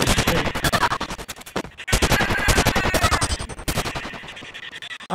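Dense, rapid bursts of gunfire ring out in a mobile shooting video game, loud and close, with crackling volleys and only brief gaps between them.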